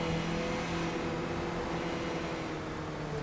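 Cockpit engine drone of a race car in a simulated qualifying session at Lime Rock Park, running steady through traffic, with a continuous close hum and slight pitch shifts, no speech.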